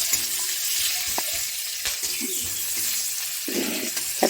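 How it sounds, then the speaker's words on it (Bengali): Sweet cumin and chopped onion fry in hot oil in a pan, a steady bright sizzle with occasional clinks and stirring scrapes, close and continuous throughout. "তেল দেওয়ার পরে দিয়ে দিলাম মিষ্টি জিরা ফোড়ন আর অল্প পেঁয়াজ কুচি"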